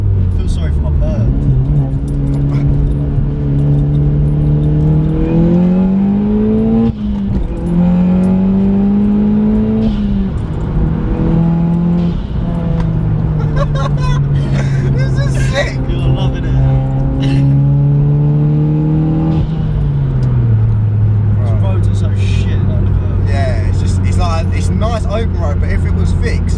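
A stage 2 tuned Audi S1 engine pulls hard under acceleration on an open road, its rising and falling revs loud and close inside the cabin, with people talking over it throughout.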